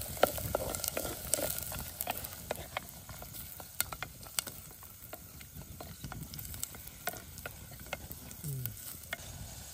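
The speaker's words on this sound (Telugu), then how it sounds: "పోపు సామాను, పచ్చిమిర్చి, ఉల్లిపాయ చాలా బాగా అనేది వేగిపోతుందండి" Onion, green chilli, cashews and tempering spices sizzle and fry in a pan for jowar poha upma, a continuous loud crackle broken by sharp pops and scraping stirs.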